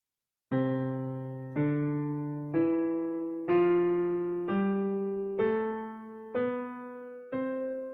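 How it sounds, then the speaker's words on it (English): Eight piano notes climb one at a time in an evenly paced major scale, each ringing and decaying, clear and alone. "this first thing I'm going to teach you is called a major scale"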